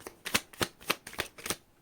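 Tarot cards being shuffled by hand, a quick run of about six crisp riffling bursts in an even rhythm, close up and clear with no talking.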